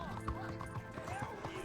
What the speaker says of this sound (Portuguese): Vamos dar uma volta aí com um cavalo